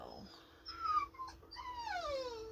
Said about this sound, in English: the dog definitely wants out